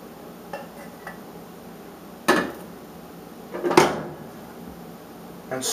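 Spaghetti with meat sauce being stirred in a pan with a spatula at home, heard as two distinct scraping, clattering bursts against the pan over quiet room tone, with no talking.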